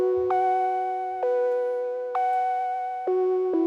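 An Arturia Matrix-12 V2 synth patch called Soda Beach plays alone and dry: four sustained, bright harmonic chords, each with a soft attack that slowly fades before the next one starts.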